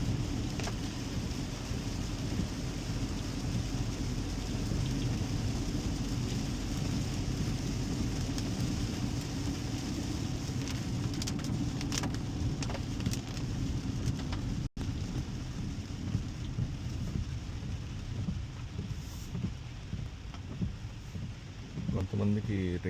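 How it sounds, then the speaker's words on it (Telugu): Heavy rain drums continuously on a moving car, a dense steady wash with low road rumble underneath and occasional clicks, loud and unbroken throughout. "కొంతమందికి రెయిన్ సౌండ్స్ ఇష్టము, నాకు ఇష్టం అనమాట"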